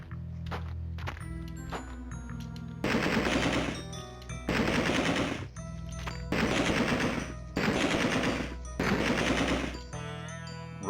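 Bursts of rapid gunfire from the survival horror game Alone in the Dark 2, five loud sustained volleys in a regular rhythm, preceded by a few sharp single shots over a steady game soundtrack.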